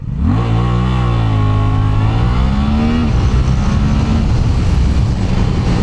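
Suzuki GSX-8TT motorcycle accelerating hard from a standstill, engine roaring up through the revs with a rising pitch, a gear change and then another climb, loud and close.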